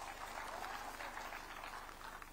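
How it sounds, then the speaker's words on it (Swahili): A crowd of farmers claps steadily at an outdoor dairy farmers field day, a dense wash of applause at moderate distance with no voices over it. "Wapigie makofi hao watu."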